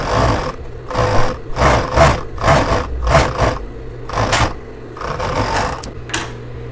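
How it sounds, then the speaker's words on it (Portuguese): Overlocker sewing the hem of a knit dress, bursts of rapid mechanical whirring and clatter in short runs separated by brief pauses, close and loud. "Só vou passar um overlock aqui na barra."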